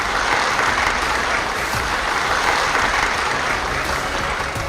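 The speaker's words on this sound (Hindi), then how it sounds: "बुधवार के दिन जब प्रधानमंत्री मोदी इथियोपिया की संसद पहुंचे, तो पूरा सदन तालियों की गड़गड़ाहट से गूंज उठा।" Thunderous applause fills the Ethiopian parliament chamber as PM Modi arrives, a dense, steady roar of many hands clapping at once, loud and continuous with no voices standing out.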